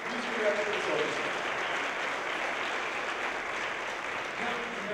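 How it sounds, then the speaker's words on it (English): A concert audience at an orchestra performance applauds the principal conductor and music director, with steady, moderately distant clapping holding evenly throughout. "Can you give him a big round of applause?"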